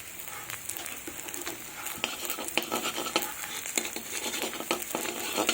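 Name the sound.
black cumin seeds frying in oil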